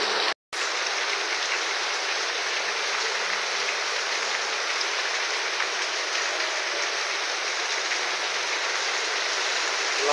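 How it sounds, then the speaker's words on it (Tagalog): Heavy rain pours steadily during flooding, a dense, even hiss that stays loud and constant for the whole stretch with no voices over it. "Wala pong tigil ang ulan mula kaya na madaling araw."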